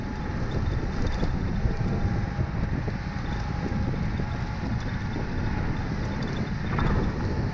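Speedway 5 electric scooter on a single motor speeding up toward top speed, heard mostly as a steady rush of wind buffeting the microphone with a faint whine underneath, constant and fairly loud.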